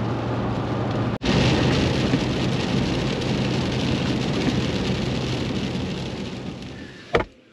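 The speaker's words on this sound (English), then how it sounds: "Still raining, just kind of a constant rain." Steady constant rain drumming on a vehicle, a dense even hiss from start to finish, cut by a brief break near the start and a sharp knock near the end.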